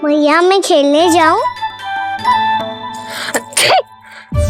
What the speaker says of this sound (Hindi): अभी छींक आई ना, ये शुभ संकेत ना है।